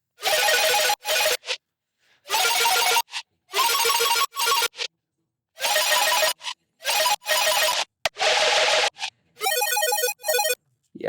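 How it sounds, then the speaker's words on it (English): Textured synth arpeggio layers from a Splice preset, playing the same notes as a saw chord: bursts of rapid, glittery pulsing notes in chopped phrases separated by abrupt silences, loud and close with no voices. "this is just a bunch of like textury kind of ARP sounds"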